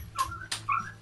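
A pet dog named Mayla, being soaped up and bathed, lets out two short, high whimpers close by, each a brief whining yelp separated by a small pause.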